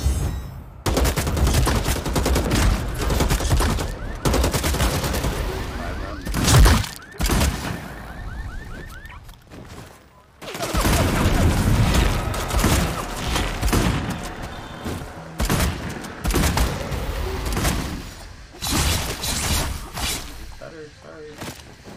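Pump shotgun blasts and other gunfire from the video game Bloodhunt sound in loud, repeated bursts, mixed with game effects and someone talking angrily over much of the action.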